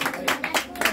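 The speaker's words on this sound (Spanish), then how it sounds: "Ese aplauso que se escucha bien bonito" Guests at a birthday party with a youth mariachi band applaud in a few uneven bursts of clapping, moderately close, with brief dips between the surges.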